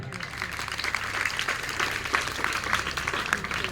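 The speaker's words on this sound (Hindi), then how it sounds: "जोरदार तालियां।" Applause from an audience at a public speech event in Malpur, a steady dense clapping that lasts throughout at moderate loudness, with some voices mixed in.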